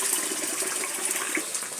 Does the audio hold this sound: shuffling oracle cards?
no